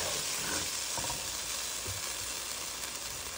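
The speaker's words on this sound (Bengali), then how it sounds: "এখন এই যে ভালোভাবে নেড়ে চেড়ে নিতে হবে" Grains being stirred in a hot pan, a continuous soft sizzle and scraping rustle that stays faint and even throughout, with no voices.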